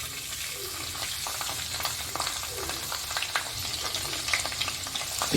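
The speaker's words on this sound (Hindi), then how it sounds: "लहसुन को भी अच्छे से भूनेंगे।" Chopped garlic and cumin fry in hot oil with a dense, continuous sizzle, occasional stirring scrapes breaking through the steady crackle up close.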